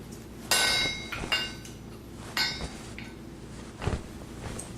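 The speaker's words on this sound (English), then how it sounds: "The great arm brought down the hammer to the red-hot iron, sending sparks scattering away." A hammer rings on red-hot iron against an anvil in a fantasy blacksmith's forge, giving four or five sharp metallic clinks spaced about a second apart, moderately near, over a low background rumble.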